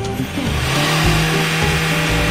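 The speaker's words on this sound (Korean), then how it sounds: "엑셀 밟아주세요." A car engine revs up hard as the accelerator is pressed during an emissions test with a smoke-reduction device fitted, rising in a steady loud roar with a brief dip before climbing again, with no talking.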